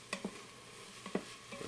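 Garlic and aromatics being stirred in an Instant Pot on the sauté setting, a few soft spoon scrapes and knocks against the pot over a steady low sizzle.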